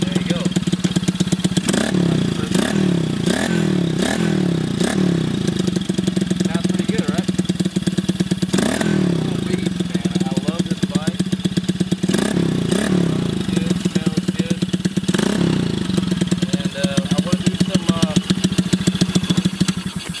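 An X15 110cc pocket bike is kick-started and its small engine runs continuously up close, with a steady idle broken by several sharp revving bursts and mechanical clatter throughout.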